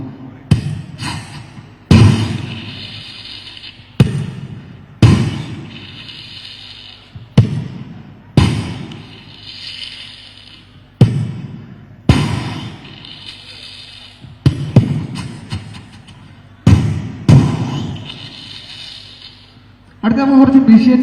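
A performer's voice imitates sky shot fireworks bursting at the Kerala State School Kalolsavam 2024 mimicry stage: about nine sharp bursts in a row, each a loud crack fading into a crackling tail, with short gaps between them.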